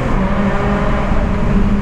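A Honda Civic Si with a straight-pipe exhaust pulling hard in second gear, a loud, raspy, steady engine drone close by with no talk over it.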